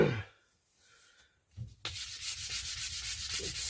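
Hand sanding a wooden English longbow with 180 grit sandpaper, a close, steady raspy rubbing that starts after a brief quiet stretch with a couple of short scrapes, then continues in even strokes.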